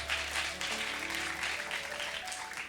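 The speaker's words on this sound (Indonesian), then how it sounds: "Kita kasih tepuk tangan dulu buat Tuhan kita." A church congregation applauding during a worship service, a steady wash of clapping heard at a distance and fairly soft, with a sustained musical tone underneath.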